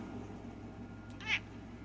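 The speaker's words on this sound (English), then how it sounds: "Even my almost 7-year-old cat says the same thing." A nearly seven-year-old cat lets out a single short, high meow, faint and somewhat distant, over a steady low background hum.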